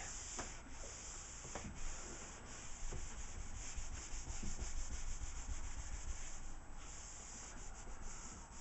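A wooden board being buffed by hand to work wax into it, giving a continuous soft rubbing, sanding-like hiss with repeated stroke rhythm, fairly quiet and close, with no talking.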